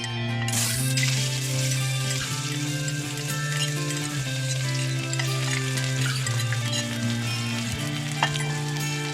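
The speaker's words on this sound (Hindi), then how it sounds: "तेल गरम हो गया है तो हम इसमें प्याज ऐड करेंगे" Chopped onions dropped into hot olive oil for a Pakistani chicken and chickpea curry give a dense, continuous close sizzle with a steady low hum underneath, a faint clink near the end and no voices.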